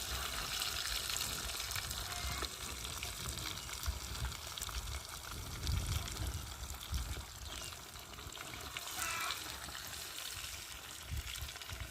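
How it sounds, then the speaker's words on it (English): Marinated red fish pieces, heads included, frying in hot oil in a pan for a curry, giving a steady dense sizzle and crackle that runs unbroken throughout, close and fairly loud, with no talking. "That's how you fry your fish."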